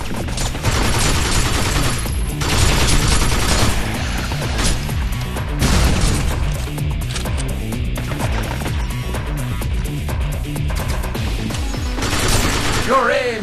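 Dense bursts of gunfire from the video game Binary Domain rattle continuously and loudly, with crashing impacts and booms layered throughout, and voices occasionally surfacing beneath the shooting.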